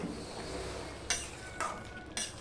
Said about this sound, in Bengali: এবার সম্পূর্ণটা আমি মিশিয়ে দিলাম